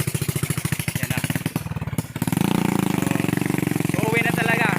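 A motorcycle engine with a broken-down fault, first a rapid rhythmic putter, then a brief gap and a louder, rougher running drone, mixed with voices talking nearby.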